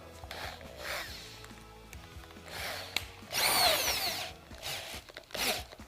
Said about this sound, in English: I'm going to use this in my drill